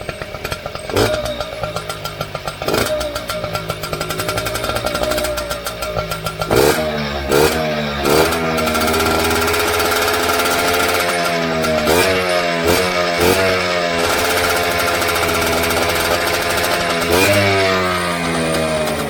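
A moped's small two-stroke engine with a stock exhaust buzzes loudly, revving up repeatedly in rising bursts with a tinny, metallic rasp.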